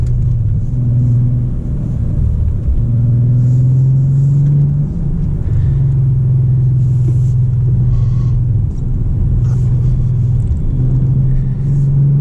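Bentley Continental GT Speed W12 convertible accelerating while held in gear, a deep steady engine drone with rising pitch, a brief break, then pulling again, close and loud throughout.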